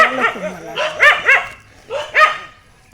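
Dogs near a garden bark and yip close by and loudly, in short clustered bursts followed by a final pair of barks.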